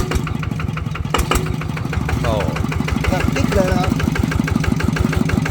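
A motorcycle engine idles close by with a steady, rapid chugging beat, while someone talks over it.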